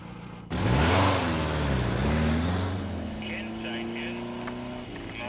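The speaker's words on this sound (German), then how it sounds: "Er fährt jetzt los." A car engine starts and revs up as the car pulls away, loud and close, then settling into a steady hum that fades slightly; a short voice sounds near the end.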